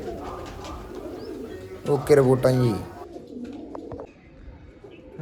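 Pigeons at a rural Punjabi home coo in a short burst of throaty calls midway, under a man's brief speech and background chatter.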